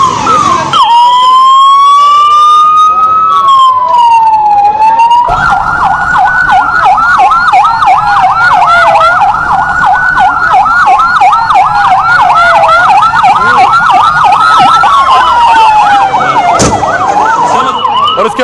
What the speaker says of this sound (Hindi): फौरन एम्बुलेंस आनी शुरू हुई। एम्बुलेंस बुलाई गई, एक के बाद एक दर्जनों एम्बुलेंस नई दिल्ली रेलवे स्टेशन पहुंची।